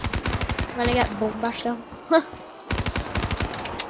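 The Death Machine minigun in Black Ops 3 Zombies fires in rapid, dense bursts at the start and again near the end, with a player talking in between.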